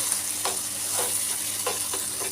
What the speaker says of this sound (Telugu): ఆ టమాటా తొక్కు పచ్చడి ఇందులో వేసుకొని కలుపుకోవాలండి